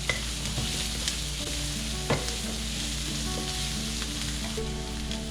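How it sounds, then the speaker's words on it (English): Onions, red and green chili and garlic fry in cooking oil over low heat, giving a continuous close sizzle with occasional stirring clinks and scrapes, without any voices. "Add my onions, chili, green chili,"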